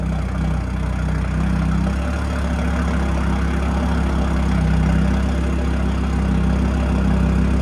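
A 2018 Audi RS3 with a 2.5L turbo inline-five, downpipes and an AWE SwitchPath cat-back exhaust idles with the valves open, giving a steady deep burbling rumble, close and loud, with no talk.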